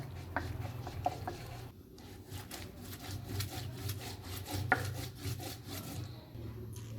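Dried red chillies and cumin ground on a flat grinding stone, a steady scraping and rubbing with soft rhythmic strokes and occasional clicks, close and moderately loud with no talk.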